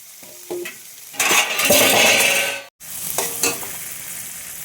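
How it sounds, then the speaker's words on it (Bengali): Onion and tomato sizzle in a hot pan, stirred in short scraping bursts; the frying swells loudly for about a second, drops out briefly, then resumes more softly. "পেঁয়াজটা ভাজা হয়ে গেছে,"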